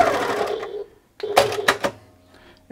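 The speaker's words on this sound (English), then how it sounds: "you can just go ahead and trim there as well" A Janome 1600P sewing machine's thread trimmer cuts the thread, giving a short mechanical whir, a brief pause, then a quick clunk and snip, close and fairly loud, with no talking.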